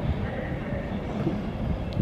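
A class 390 electric train rolls into Crewe station with a steady, close rumble and broad mechanical roar that fills the whole moment without a break.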